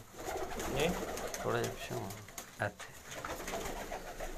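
Pigeons, a male and a female, coo softly in low repeated bursts while someone talks over them nearby throughout.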